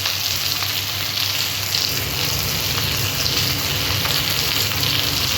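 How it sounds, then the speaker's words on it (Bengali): Onion frying with spices in a pan for a Bengali jackfruit curry, a loud, steady sizzle with faint stirring running the whole time, no voices. "মশলার সাথে আমি ভেজে নেব।"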